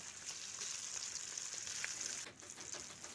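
Dhoka, Bengali lentil cakes, being deep-fried in oil, a steady close hiss of sizzling bubbles with occasional small pops, continuous throughout with a brief dip near the end; no talking.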